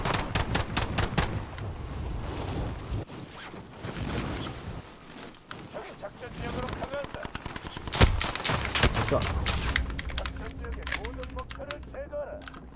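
Loud, rapid automatic gunfire in the video game Call of Duty Modern Warfare, long rattling bursts with a brief lull midway, close and dense, with a voice talking over it.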